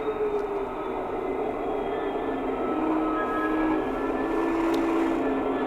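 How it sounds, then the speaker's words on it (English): A Hattons Originals Class 66 diesel locomotive model with a digital sound decoder idles through its priming sequence, a steady droning engine rumble with faint tonal whines holding at an even level throughout. "A real loco, a real Class 66 will prime for quite a long time."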